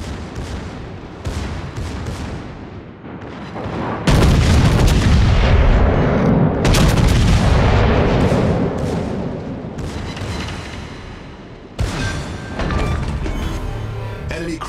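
Secondary battery guns on a German battleship, the Pommern, fire in World of Warships, a rapid barrage of loud booming shots rolling into one another, with heavy blasts and crashes continuing through the whole stretch.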